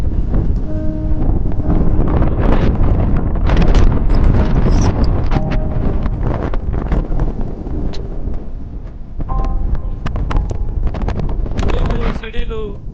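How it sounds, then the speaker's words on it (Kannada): Heavy wind buffets the microphone outdoors in stormy weather as people walk along, a loud, continuous roar with gusty surges throughout, with voices faintly mixed in. "ಹೆವಿ ಗಾಳಿ ಇದೆ ಗಾಯ್ಸ್, ಫುಲ್ ಗಾಳಿ ಇದೆ."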